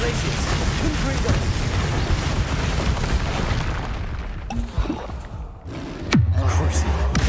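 Confringo fire spells bursting in Hogwarts Legacy combat: dense, loud booming blasts pile up almost without pause, easing briefly before another heavy hit and a low rumbling tail.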